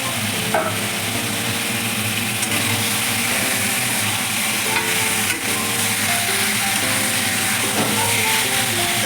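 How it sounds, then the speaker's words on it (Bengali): Chopped ginger and chicken fry in a hot pan with a loud, continuous sizzle and occasional stirring clatter, close up and without speech. "আদা কুচিটা আমি বেশি ভাজবো না অল্প একটু ভেজে আমি চিকেনটা দিয়ে দেবো"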